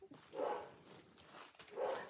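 A leashed female dog barks twice indoors, a muffled bark near the start and another near the end, with fainter whimpering sounds between.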